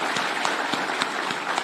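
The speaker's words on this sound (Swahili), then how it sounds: "Tafadhali tumpigie makofi tena" Brief applause from an audience at the official opening of Talanta Plaza in Nairobi, a dense wash of clapping with a few sharper claps standing out.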